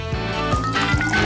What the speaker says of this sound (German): Oma gießt die heiße Schokolade in ihren Lieblingsbecher.